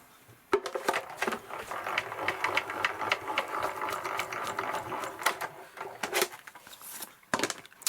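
A Tonic Tangerine die-cutting machine embosses card through an embossing folder, giving a continuous crunching, clicking mechanical rumble with rapid ticks for about six seconds, ending in a few separate knocks.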